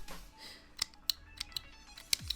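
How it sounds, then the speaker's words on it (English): Dull scissors cut yarn while crocheting an amigurumi, a series of sharp close snips spaced irregularly and fairly quiet, with no talking. "Oh, my scissors need sharpening."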